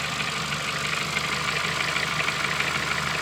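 Ford Focus engine idling steadily just after start-up, a constant even drone with a faint rhythmic pulse, heard close and alone for the whole stretch.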